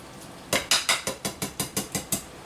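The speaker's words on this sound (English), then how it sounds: "I'm just taking the whisk and kind of pushing the macaroni to the bottom of the bowl" A whisk pushes macaroni into cheese in a very full bowl, making about nine quick, evenly spaced clicking taps against the bowl, close and distinct.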